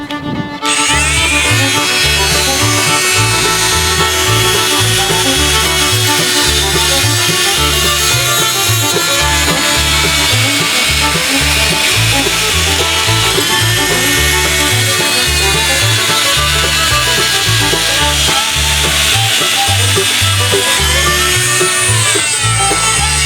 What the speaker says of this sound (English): the motor in the saw runs that blade back and forth. So I'm going to try this out on a piece of wood